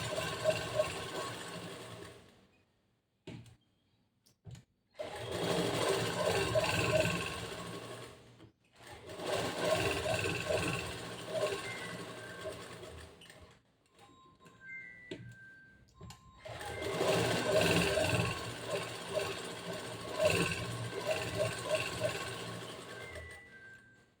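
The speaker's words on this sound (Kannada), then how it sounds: "ಈ ಥರ ಇದನ್ನು ಕೈನ ಈ ಥರ ಹಿಡ್ಕೊಂಡು ಸ್ಟಿಚ್ ಮಾಡಬೇಕು." A sewing machine stitches a boat neck blouse in several rapid bursts of clattering needle action separated by short pauses, with faint handling noises in between.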